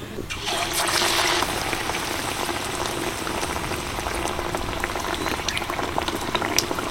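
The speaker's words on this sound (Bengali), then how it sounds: "এবার দেখুন এই গরম তেলের মধ্যে চপগুলো ভাজবো" Lote fish chops coated in batter frying in hot oil, a loud, dense, continuous bubbling sizzle that swells as they go in and then holds steady, close up, with no talking.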